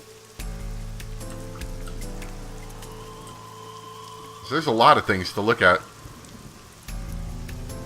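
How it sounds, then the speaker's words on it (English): Steady rain pelting a parasol in the video game AI The Somnium Files, a constant patter running throughout with game music tones, while someone speaks briefly over it midway. "Parasol's getting pelted by the rain."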